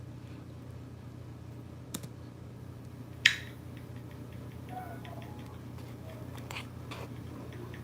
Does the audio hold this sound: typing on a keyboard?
yes